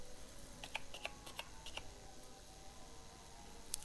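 Fingers typing on a slightly faulty computer keyboard, a faint scattered run of quick clicking keystrokes in a quiet room.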